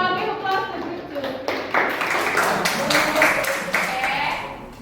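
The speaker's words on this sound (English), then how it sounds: "So give applause to group 2." A classroom of junior high science students applauds a winning group, a scattered burst of clapping rising and continuing for a few seconds alongside a teacher's voice.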